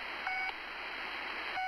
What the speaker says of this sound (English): I don't think I'm supposed to be finding the beeping.